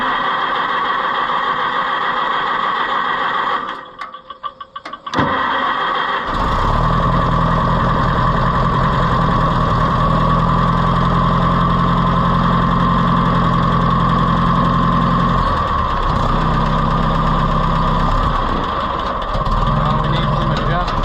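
An Oliver 550 tractor engine with a faulty carburetor and no choke hooked up runs loud and close, a steady rough idle with a brief dip and stumble near the start, then a fluctuating throb as it struggles on.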